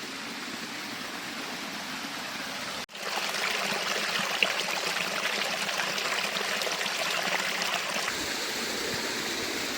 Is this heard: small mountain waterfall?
yes